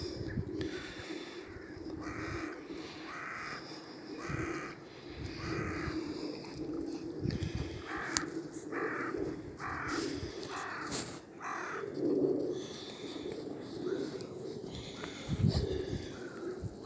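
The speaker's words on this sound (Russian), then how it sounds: "Вороны кругом сидят." Crows caw repeatedly around a seaside walk near a power plant in Sillamäe, Estonia, harsh calls overlapping at varying distances over steady wind and surf noise.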